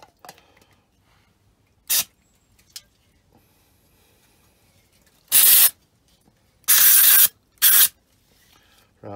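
Aerosol spray cleaner hisses onto the carburettor of an RD125LC motorcycle left standing for 17 years, in several sharp, separate bursts, one short, two longer, another short, with quiet handling noises between.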